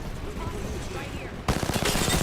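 Video game gunfire in a battle royale match, bursts of rapid shots that grow louder and denser partway through, mixed with game sounds while players talk.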